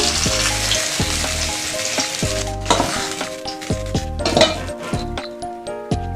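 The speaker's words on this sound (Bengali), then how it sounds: "মাছটা হয়ে গেছে আমি ভাজা সবগুলো" Pieces of fresh river bhola fish fry in hot oil in a pan, a steady close sizzle broken by regular clinks and scrapes of a utensil against the pan.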